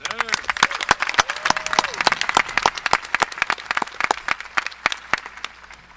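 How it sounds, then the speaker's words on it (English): Graduating seniors at a Boerne High School graduation ceremony applaud themselves, sharp individual claps ringing out over a crowd with whoops and a voice briefly audible. "let's give ourselves a round of applause"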